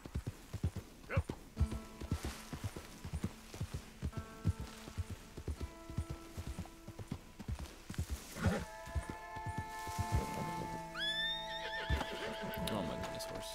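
A horse in Red Dead Redemption 2 whinnies with rising tonal calls over steady clip-clop hoofbeats, with soft rain-like patter and some talk mixed in.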